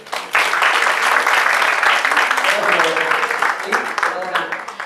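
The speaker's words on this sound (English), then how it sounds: "Let's just take a minute to just clap and thank Bernice for bringing all of us her" An audience claps for a host at a morning motherhood event, the dense applause beginning quickly and holding steady and loud for several seconds before thinning slightly at the end.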